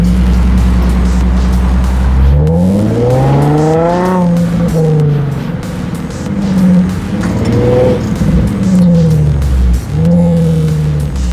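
A Nissan 350Z drives along a road, its engine note climbing and falling through several rising gear pulls with steady tire and road rumble underneath, close and loud throughout.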